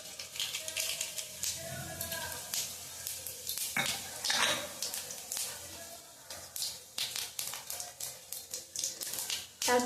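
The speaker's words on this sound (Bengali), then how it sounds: "তেলটা গরম হয়ে গেছে, এবার আমি মশলাগুলো দিয়ে দেব" Whole bay leaf, cardamom, cinnamon and cumin crackle and sizzle in hot oil in a home kitchen, giving a steady close fry with sharp pops and clinks of utensils throughout.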